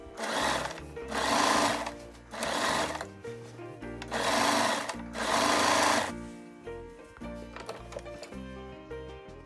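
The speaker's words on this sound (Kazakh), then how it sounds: "жүргізіп тігіп шығамыз" A sewing machine stitches a seam on a handmade tablecloth in several loud, close bursts of rapid mechanical whirring separated by short pauses, ending in a few lighter, slower runs, with no talk.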